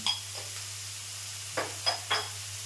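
Onions frying in a pan with salt and turmeric for a soybean ghugni, a faint low sizzle under a steady hum, broken by a few short stirring scrapes near the end, no talk.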